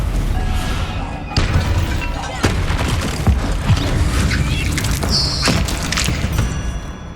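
A Confringo spell explosion in Hogwarts Legacy bursts as a loud booming blast, followed by crashing thuds and rumbling debris over a continuous, dense game soundscape.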